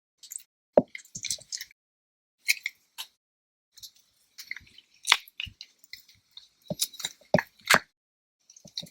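An uncured resin piece is worked free of a mould, making a series of soft, sticky squelches, small pops and peeling sounds in irregular bursts, close and quiet with no talking.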